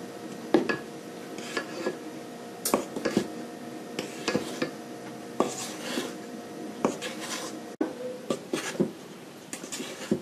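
Soft scraping and gentle thuds of a utensil folding flour into thick apple charlotte cake batter in a bowl, repeated in slow, irregular strokes with light clinks.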